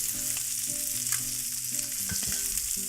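Cod fillets fry in butter in a pan for a Cajun dish, a close, steady sizzle and crackle with faint scraping and clinks of a utensil.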